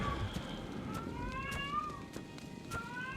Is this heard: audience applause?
no